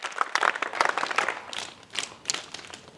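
An audience at a college scout-and-guide event claps to welcome the chief guest, uneven bursts of hand claps rising and falling over a few seconds, fairly close with no voices.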